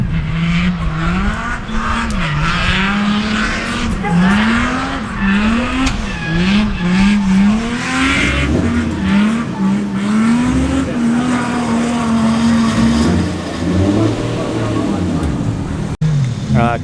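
A drift car at a night drifting session revs hard with rising and falling engine pitch while tires squeal continuously, loud and close, with voices talking over the noise.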